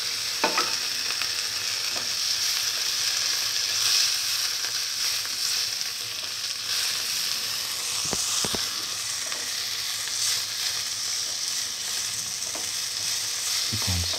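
Tomato pieces sautéing in a pan for lamb and fenugreek leaf noodles, a constant loud sizzle and hiss with occasional spatula scrapes and taps, close and without talk.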